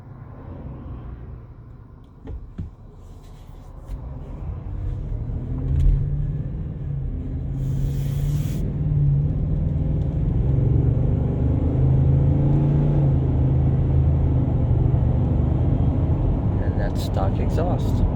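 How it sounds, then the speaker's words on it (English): Deep engine drone inside a 2023 Ford F-150 pickup under hard acceleration, the rumble building and holding steady, with faint talking over it. "And this will be the interior with heavy acceleration."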